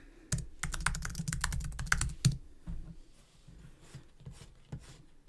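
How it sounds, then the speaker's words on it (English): Fingers type on a computer keyboard in a fast burst of clicky keystrokes. The tapping then slows into scattered, quieter presses, close by and with no talking. "Let me just try typing real quick."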